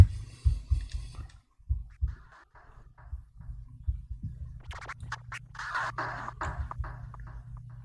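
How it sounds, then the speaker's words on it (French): A scratch sound is chopped by the Alligator filter gate in Reason into stuttering, gated bursts, with low thumping hits early and later a denser run of clipped scratchy textures, close and alone. "la partie scratch de mon son qui est décomposée"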